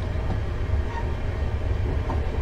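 A Class 380 electric commuter train is heard from on board as it runs and picks up speed, giving a steady low rumble with faint wheel and track noise throughout.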